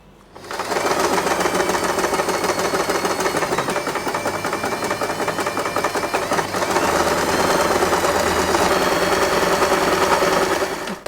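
A sewing machine stitches fabric for a two-tone bow headband, running in a steady rapid mechanical whir for about ten seconds, loud and close, with no voices.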